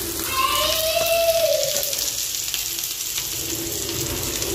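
Peanuts roasting in a pan for a mashed peanut dish give a steady, close hiss that runs through the whole stretch, with a brief whistling tone rising over it early on.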